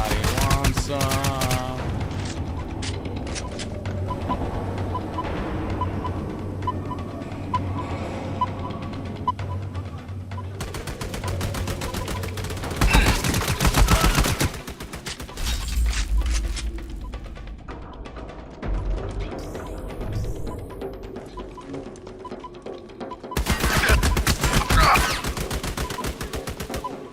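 Heavy video game gunfire, loud automatic bursts and scattered single shots arriving in separate volleys with quieter stretches between, set over a low background hum.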